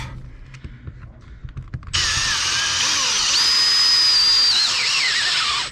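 A power drill bores fastening holes in a wooden boat hull during restoration, a quiet rustle giving way to a loud, sustained high whine that shifts in pitch as the bit bites, close and alone.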